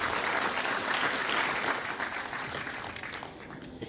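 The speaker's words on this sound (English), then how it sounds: "Let's give the Honorable Minister another hand of applause" An audience at a public event applauds a minister, thick continuous clapping that starts loud and full and gradually thins and softens toward the end.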